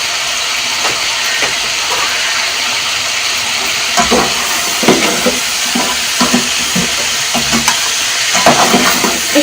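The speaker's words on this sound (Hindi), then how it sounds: "हमें चिकन फ्राई करते हुए 5 मिनट हो चुके हैं।" Chicken pieces fry in a hot pan, sizzling steadily the whole time, with louder bursts of scraping and crackling from about four seconds on as the meat is stirred and turned.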